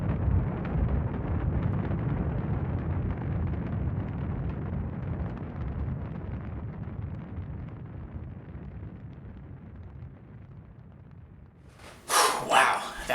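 Low, rumbling roar of a rocket liftoff that holds steady and slowly fades, with a short burst of brighter noise right at the end.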